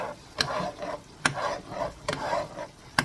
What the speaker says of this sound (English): So you'll start to see the egg scramble, and then you can just kind of start breaking it up with your spoon or spatula